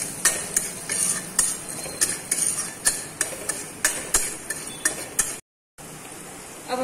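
Coriander powder, turmeric and garam masala roasting in a pan, with a steady run of close metallic scrapes and clinks of a spoon stirring against the pan, alone and without talk, before a brief dropout near the end.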